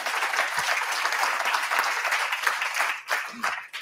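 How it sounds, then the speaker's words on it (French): An audience at a clinical oncology pharmacy conference applauding the speakers, a full steady wash of clapping that tapers off near the end as a voice begins to speak. "je vous remercie d'applaudir tous les intervenants."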